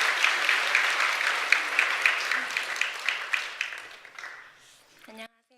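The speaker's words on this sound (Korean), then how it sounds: "큰 박수로 맞이해 주시기 바랍니다" A church congregation applauds with dense clapping that gradually fades out during a worship service. A voice is heard briefly at the end.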